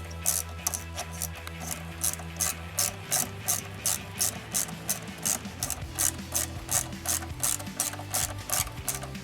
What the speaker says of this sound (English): I'm gonna use a ratchet with a 7mm socket.